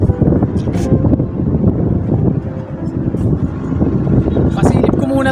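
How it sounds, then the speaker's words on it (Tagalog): Strong wind buffets the microphone with a constant low roar and rumble, loud and close throughout. "Lakas ng hangin."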